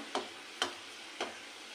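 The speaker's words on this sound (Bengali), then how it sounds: "আস্তে আস্তে একটু ভাজা করে নেব।" Kuli pitha fry in a pan with a faint, even sizzle, broken by three light clicks of utensil contact, and no voices.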